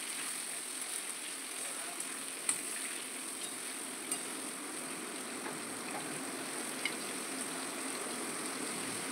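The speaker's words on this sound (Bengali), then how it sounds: "এবার আলু পটল একসাথে ভাজা হবে লাল লাল করে।" Pointed gourd and potatoes fry together in a pan with a soft, steady sizzle under a faint background hum, broken by a few light clicks.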